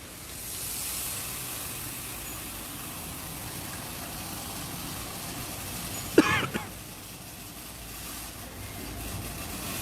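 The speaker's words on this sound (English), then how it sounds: "You can see the duct nozzle spraying on top." A water mist fire suppression duct nozzle sprays gently over commercial kitchen fryers, giving a steady broadband hiss throughout with a brief clattering burst partway through.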